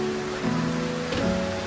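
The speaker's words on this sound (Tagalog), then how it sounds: "Mga simpleng patak ng ulan ng ganyan sa dahon na nakaka-relax." Steady light rain patters on leaves during the rainy season, a dense continuous wash of small drops with no voices, soft and even throughout.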